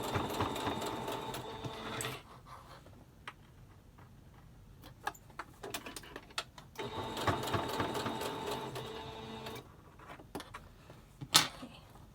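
A sewing machine back stitching a pleated fabric face mask with interfacing runs in two short bursts, each a couple of seconds long, with quiet handling clicks and taps in between.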